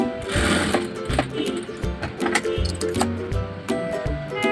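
A sewing machine stitching a zipper onto a frock, a steady rapid mechanical clatter with rhythmic pulses and brief pauses, close and continuous throughout.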